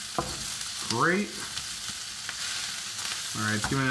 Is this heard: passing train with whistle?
no